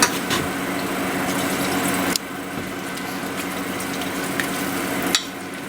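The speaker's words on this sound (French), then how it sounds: "Dès que ça commence à épaissir, hop, on remet un petit peu de lait dessus." Milk is poured into a thickening sauce in a pan for a chard and tofu gratin, a close, steady splashing pour that shifts partway through and stops near the end, with no talking.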